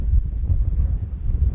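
Strong wind buffets the microphone at a high viewpoint in Seattle, a low rumbling roar that gusts unevenly throughout with no speech.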